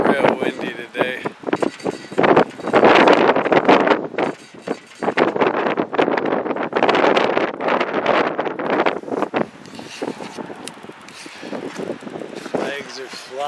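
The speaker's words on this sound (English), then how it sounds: "It's real windy today." Strong gusty wind roars into the microphone outdoors at a northeast corner with flags flying, loud buffeting rumbles rising and falling in waves throughout.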